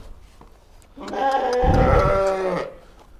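A sheep or lamb on a Kyrgyz farm gives a single loud, close, drawn-out bleat lasting about a second and a half, with quiet surroundings before and after.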